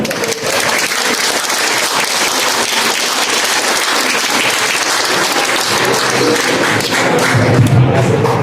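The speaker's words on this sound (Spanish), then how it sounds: "Un aplauso al ingeniero" Sustained audience applause fills the room after an agronomist engineer is introduced for a lecture, dense and steady clapping from a crowd lasting throughout.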